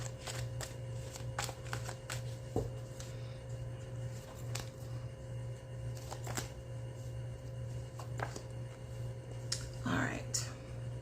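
Playing cards being shuffled in several quick riffles over a steady low hum, moderately close, with no talking.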